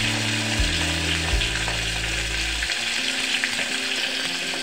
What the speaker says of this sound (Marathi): बारीक चिरलेला कांदा टाकत आहे आता।